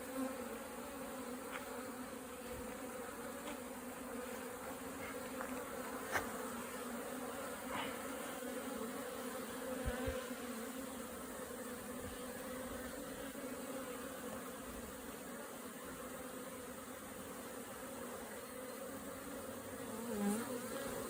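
Dense, continuous buzzing of many honeybees at a hive, close and steady, with a few individual insects droning louder as they pass nearby.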